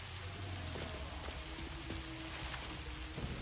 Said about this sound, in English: if you're standing near machines, you can hear it raining on the machines. As if they're like a tin roof